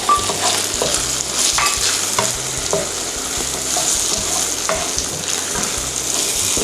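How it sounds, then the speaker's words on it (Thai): Shallots and dried shrimp sizzle loudly in a hot wok, a dense steady frying hiss with repeated scrapes and clinks of a spatula stirring throughout. "หอมแดงนะครับ ผัดให้หอมเลย กุ้งแห้งนะฮะ"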